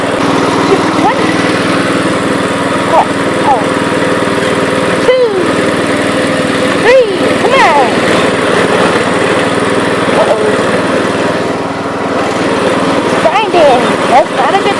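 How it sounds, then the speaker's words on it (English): A lawnmower engine towing a yard machine drones loud and close, a steady high-pitched buzz that rises and falls slightly, with voices faintly under it. "lawnmower hooked up to the yard machine"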